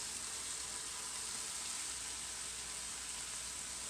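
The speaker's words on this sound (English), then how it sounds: "I'm going to add my 2 tablespoons of garlic." Mushrooms sauté in a pan as garlic goes in, giving a steady, soft broadband sizzle that holds evenly throughout with no voices.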